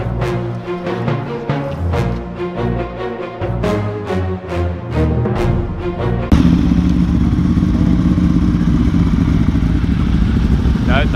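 Ducati motorcycles start up and rev at a bike gathering in Australia: a loud, close engine note pulses with clatter and thumps, then settles into a steady, dense roar.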